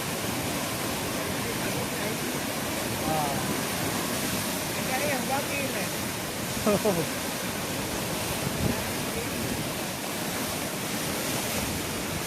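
Floodwater rushing past a home garden in Sri Lanka, a steady broadband roar filling the whole clip, loud and continuous with faint voices underneath.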